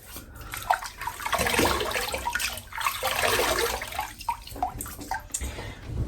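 Tap water runs steadily into a basin to wet the face before a head shave with a Coles supermarket razor, a continuous close splashing rush lasting several seconds with small shifts in flow.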